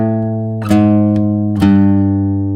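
Guitar bass notes from the Westworld theme, three plucked low notes ringing out one after another with sustained tones, clear and close.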